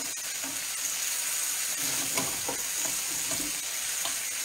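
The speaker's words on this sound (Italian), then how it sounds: "velocemente facciamo cuocere il nostro tonno" Tuna cooks quickly in a pan, a steady close sizzle with soft stirring and scraping strokes, continuous and free of speech.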